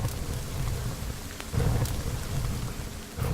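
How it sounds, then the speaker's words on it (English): Steady rain hisses over surfaces while thunder rumbles in deep rolling swells in The Forest video game, a loud, continuous storm with no voices. "And it's raining!"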